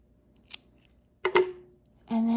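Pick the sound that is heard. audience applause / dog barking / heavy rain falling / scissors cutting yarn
scissors cutting yarn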